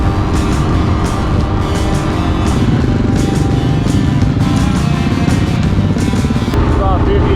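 A KTM 690 dual sport motorcycle rides off on a cool day, its steady engine drone loud and continuous throughout with a slight rise in revs, wind and road noise under it and no talk.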